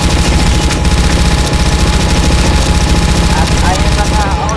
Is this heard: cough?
no